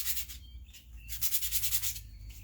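Wet sandpaper rubbing on a crochet hook, a soft, close, scratchy swishing in quick repeated back-and-forth strokes with brief pauses.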